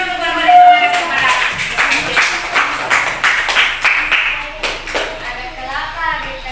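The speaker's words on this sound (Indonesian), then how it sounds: "tepuk tangan dulu" Schoolchildren in a classroom clap together in short, rhythmic bursts, close and fairly loud, with a voice and other chatter mixed in among the claps.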